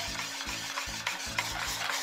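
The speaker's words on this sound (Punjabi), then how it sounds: "ਜਿਹੜਾ ਆਪਣਾ ਬੈਟਰ ਸੀਗਾ ਇਹਨੂੰ ਆਪਾਂ ਚੰਗੀ ਤਰ੍ਹਾਂ ਫੈਂਟਾਂਗੇ ਹੁਣ 5 ਮਿੰਟ ਲਈ।" Cake batter being beaten by hand in a bowl, a close, quick, regular scraping-and-slapping rhythm of about three to four strokes a second, steady throughout with no voices.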